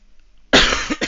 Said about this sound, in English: I hope to get rid of this cough soon